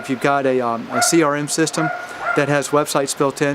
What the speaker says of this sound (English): That's my neighbor's dog barking at my dog.